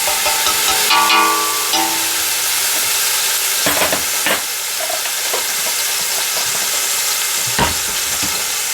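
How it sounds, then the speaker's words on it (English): Onion and minced garlic fry in a pan with a steady, loud sizzle that lasts the whole stretch, broken by a few brief stirring scrapes and clicks; nobody speaks. "Then we're going to cook this for 3 minutes."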